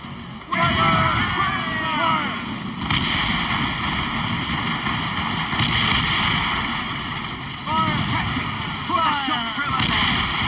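Mortar artillery fire in the naval combat of Assassin's Creed Rogue: heavy, continuous rumbling booms and blasts with whistling projectiles, loud and dense throughout.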